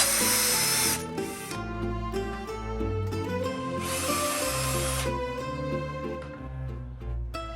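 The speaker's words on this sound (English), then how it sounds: "I'm just drilling a bigger hole so I can sink the screw in so Borja can fill over the top and paint." A power drill whirs in short bursts, widening a screw hole in a walk-in closet, its pitch rising and falling as it bites into material, close by with a rhythmic background beat.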